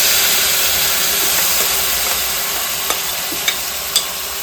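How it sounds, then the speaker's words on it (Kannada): Food frying in a pan gives a steady, close hiss of sizzling oil that fades slightly over time, with a few light clicks near the end. "ಓಕೆ, ಇದನ್ನು ಫ್ರೈ ಮಾಡಬೇಕೀಗ"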